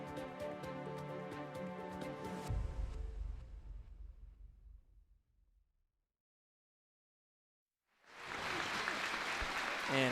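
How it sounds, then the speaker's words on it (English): Crowd applause fills an indoor high school boys basketball gym at a St. Elizabeth's home game against Sanford. Loud, dense clapping rises after a music-like passage fades into silence, then continues to the end. "You hear the applause from the crowd on hand here at the St. East Center"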